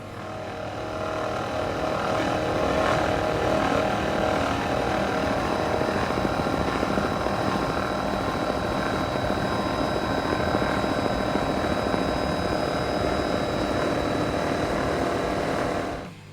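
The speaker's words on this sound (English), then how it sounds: "Cigarette 39 Top Gun, pair of Mercury Racing 525s. Steve's got the hammer down, so let's listen in" A Cigarette 39 Top Gun powerboat with a pair of Mercury Racing 525 engines roars at full throttle, a steady, loud drone with a whining pitch that holds throughout.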